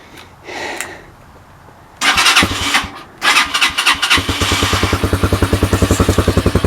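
After a few quiet clicks, a Taomotor TBR7 Hawk 250cc enduro motorcycle engine with its catalytic converter removed cranks, catches, and settles into a loud, rapid, chugging idle.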